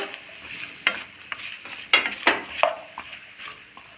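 Vegetable curry with brinjal and rock salt being stirred in a pan, giving soft scraping and clinking spoon strokes over a faint sizzle, with several sharper knocks scattered irregularly through the quiet stretch.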